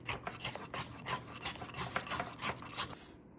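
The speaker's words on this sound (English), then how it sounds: "you just whisk it together" A whisk stirs a vanilla cinnamon glaze for puff pastry cinnamon rolls, making soft, quick, rhythmic scraping strokes against a bowl, faint and close.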